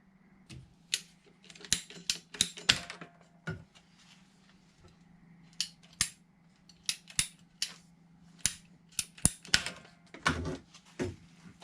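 PEX water pipe being cut with a cutter in a house plumbing job, a series of sharp close snipping clicks in irregular bursts, some rapid clusters, with quiet pauses between.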